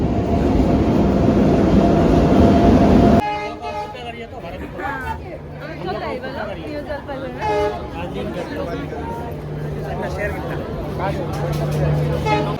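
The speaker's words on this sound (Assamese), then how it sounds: "আমাৰ ট্ৰেইন আহি গ'ল" A train pulls into a platform at Guwahati station, with loud rumbling giving way to a sustained horn-like tone and busy platform clatter, while people talk nearby throughout.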